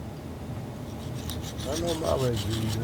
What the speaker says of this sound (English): you're sharpening your knife